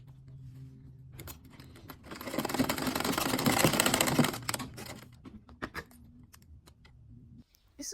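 A sewing machine top stitches a side inner pocket in one sustained run of rapid, even needle chatter, close and moderately loud, with quieter handling clicks before and after.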